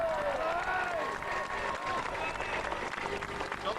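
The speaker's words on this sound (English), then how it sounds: "I think he deserves a special round of applause" A crowd at a GAA county champions homecoming applauds for a club trainer, a steady, distant-sounding patter of clapping with some talk and cheering mixed in.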